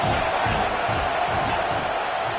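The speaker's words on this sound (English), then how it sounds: "This crowd knows this defense needs them right now." Stadium crowd roars steadily through a college football video game matchup against LSU, a dense continuous cheer with no breaks.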